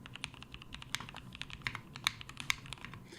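Someone types on an Instant60 mechanical keyboard at close range, a steady run of crisp, uneven keystrokes with a few louder clacks over a low room hum, with no voice.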